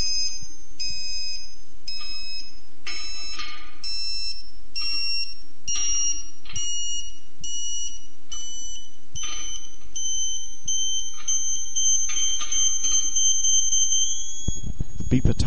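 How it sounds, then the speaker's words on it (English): Alignment beeper on a Surfbeam 2 satellite terminal during installation, sounding a series of short high electronic beeps that grow into a sustained continuous high tone, steady and fairly loud. "Beeper tone will now get higher and reach finally a continuous high tone."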